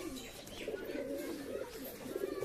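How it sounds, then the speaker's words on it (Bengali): Kaldum pigeons coo in a steady, low, continuous murmur, the soft rolling calls overlapping close by with no pauses and no voices. "পায়রা দুটো দেখুন"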